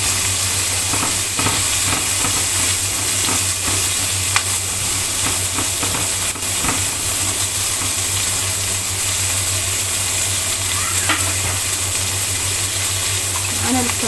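Sliced onions frying in oil in a pan as preparation for fried fish, a steady loud sizzle with occasional stirring scrapes, and a low constant hum running underneath.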